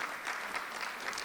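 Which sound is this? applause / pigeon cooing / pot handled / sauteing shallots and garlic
applause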